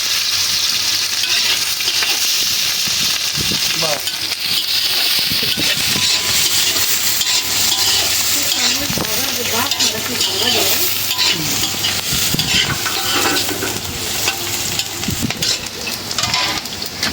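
Onions frying in a pan while a goat's-head curry with chickpea dal is cooked: a loud, dense, continuous sizzle with busy stirring and scraping throughout, close to the listener, with little or no speech over it.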